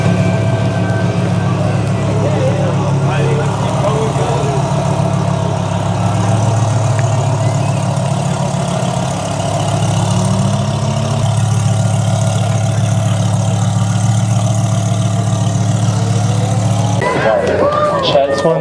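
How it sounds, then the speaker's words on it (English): Twin-turbo Lamborghini Huracán at a GTR festival drag launch in Australia, idling with a steady low rumble that holds loud and close for most of the time before a sharp burst near the end; a voice talks over it. "This one's a twin turbo Hurricane. Really tidy launch from running in the 33."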